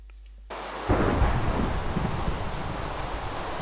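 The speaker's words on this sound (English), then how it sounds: "in the swamp during the middle of a thunderstorm" Thunderstorm rolling over a swamp in Minecraft, a sudden heavy thunder crack opening into a dense, continuous roar of rain and rumble that stays loud to the end, with no talking.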